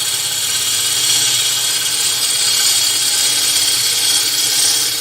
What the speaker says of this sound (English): I'm going to start putting shape into this straight away. And all I'm going to do is taper it.